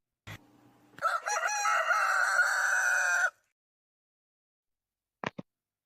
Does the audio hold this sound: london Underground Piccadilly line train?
no